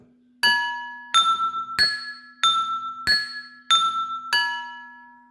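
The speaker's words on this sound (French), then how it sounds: "Je peux le faire aussi avec les verres de différentes tailles." Drinking glasses of different sizes are struck one after another, seven clear ringing pings at varied pitches, each chiming brightly and fading out, close and loud with a steady faint hum underneath.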